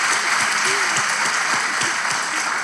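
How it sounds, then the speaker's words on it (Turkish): Studio audience applause on a Turkish talk show, a steady dense wash of clapping held at even loudness throughout, with no voices over it. "Kocaman alkış kardeşlerime."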